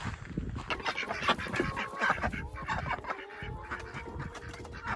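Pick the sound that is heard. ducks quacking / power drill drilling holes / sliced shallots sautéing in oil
ducks quacking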